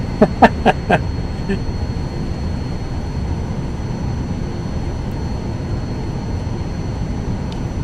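An aircraft taxis out at KEFD in a flight simulator game, giving a steady low engine rumble throughout, with a few sharp clicks near the start.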